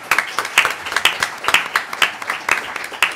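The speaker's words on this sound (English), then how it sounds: "A big applause to all of you." An audience at a data protection conference claps and applauds together, the claps coming in a fairly even, pulsing rhythm, moderately loud and close.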